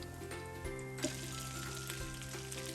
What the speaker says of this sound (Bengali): তাহলে এই পিঠটা ভাজি